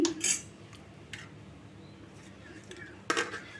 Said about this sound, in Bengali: লবণটা দিয়ে আমি ভালোভাবে ডিমের সঙ্গে মিশিয়ে নেব এইভাবে ডিমটা ভালোভাবে ফেটিয়ে নিয়েছি